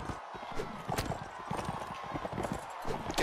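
Galloping horse hooves in a Mount and Blade: Warband tournament, rapid rhythmic clip-clop close by with brief game noise over it.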